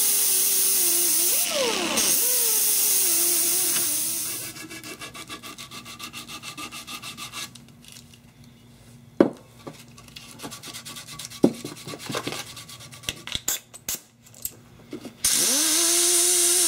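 Sandpaper rubbing cured five-minute epoxy on a survival machete handle, long sanding strokes at first, then quicker scratchy strokes with sharp knocks and scrapes, close and clear.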